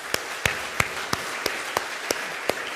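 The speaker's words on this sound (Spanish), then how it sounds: "Denle un fuerte aplauso a toda esta gente" A church congregation claps in a steady, evenly spaced rhythm, each clap a sharp crack at moderate loudness over a soft room murmur.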